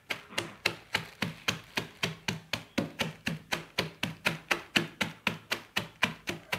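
A pestle pounds food in a mortar while ingredients are prepared for pumpkin soup with lean meat: about twenty sharp, evenly spaced knocks at roughly three per second, close and loud, with no talk.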